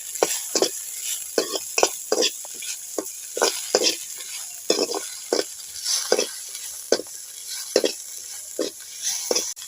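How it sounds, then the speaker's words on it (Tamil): Garlic, onion and tamarind sautéing in a pan, with repeated quick scraping stirs in an irregular rhythm over a constant bright sizzle, close up. "அதுக்குள்ளே பூண்டையும் போட்டு வதக்கிக்கலாம் வெங்காயமும் போட்டு வதக்கிக்கலாம் அது கூட கொஞ்சம் புளி போட்டு வதக்கிக்கலாம்"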